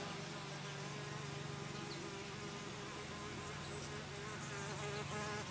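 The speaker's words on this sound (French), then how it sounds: "Qu'est-ce qu'elle vient foutre cette guêpe là?" Steady buzzing of a wasp close by in a workshop with a 1955 Panhard Dyna Z1, continuous and fairly loud throughout, with a faint low hum beneath and no talking.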